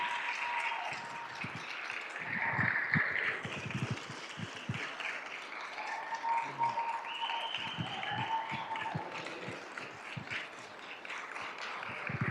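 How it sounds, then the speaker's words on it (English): An audience at a school district governing board meeting applauds the champion cross-country team, a dense, sustained round of clapping with a few brighter accents. "let's give a big round of applause for the EVC champion cross-country team from"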